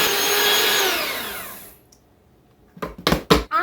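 An electric mixer on low speed creams banana bread pudding ingredients with a loud, steady motor whine that winds down and stops, followed by silence and then several short, sharp bursts.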